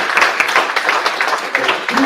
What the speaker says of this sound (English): let's give a round of applause to our guests here